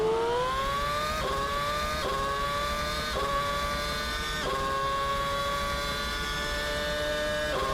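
McLaren MP4/22 Formula 1 engine in Assetto Corsa, a loud, high-pitched screaming V8 note rising steadily through each gear, with sharp drops at upshifts roughly every second, continuous and alone.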